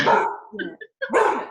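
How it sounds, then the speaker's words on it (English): A dog barks a few times close by in an indoor interview setting, the short barks interleaved with people talking. "Like when the dog barks, I need special attention."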